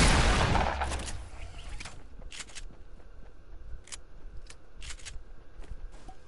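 Fortnite gameplay gunfire: a burst of rapid shots at the start, then scattered single and double cracks of varying distance over a steady game ambience.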